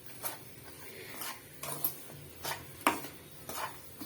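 A sweet mixture for a Krishna Jayanthi treat is stirred in a pan, giving a steady rhythm of scraping, clinking strokes about every half second to a second, close and fairly quiet, with no talking.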